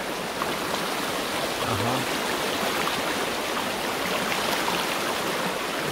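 A river flows and rushes steadily past trees in a rural spot, a continuous broadband wash of water close by, with a brief murmured voice heard once over it.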